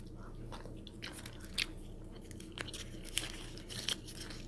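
Gum being chewed close to the microphone in a quiet ASMR setting, with soft, irregular wet clicks and smacks over a low steady background hum, no talk.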